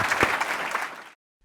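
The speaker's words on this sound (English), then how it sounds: "let's give him a big round of applause" Applause from a podcast session audience rises at once, a dense wash of many clapping hands that runs steadily for about a second before cutting off abruptly into silence.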